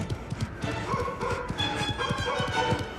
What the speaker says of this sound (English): This was a much more ferocious barking.